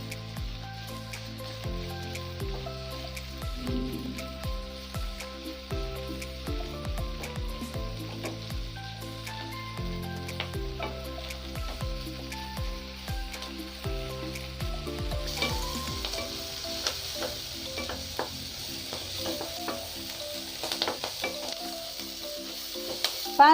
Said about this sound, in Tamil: பாலக்கை நல்லா ஃப்ரை பண்ணிக்கோங்க